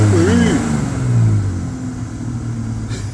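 A Land Rover Discovery engine on an off-road test with its check engine light on, a low rumbling rev that swells and then settles while people talk over it inside the vehicle.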